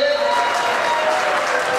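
An audience applauds at a tribute gathering marking a communist comrade's first death anniversary, a dense, steady wash of clapping heard close and loud for the whole moment.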